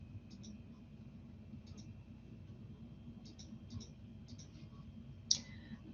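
Faint, sparse clicks of computer keyboard keys come in small bursts over a low room hum, ending with one sharper key strike, and no one speaks.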